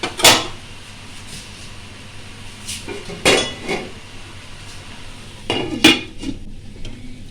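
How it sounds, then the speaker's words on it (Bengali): A lid set onto a pot of cooking prawn curry with spinach, heard as a few sharp metallic clanks and rattles spaced over several seconds above a low kitchen background. "এবার আমি ঢাকা দিয়ে দেবো।"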